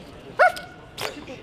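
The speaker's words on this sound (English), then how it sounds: "this is Carl Childers, my dog" A dog barking indoors during a poker series, two short sharp barks close by with a pause between them and no clear talk.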